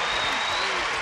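Studio audience applause on a quiz show greeting the returning champion, a brief, loud, dense burst of clapping filling the whole moment.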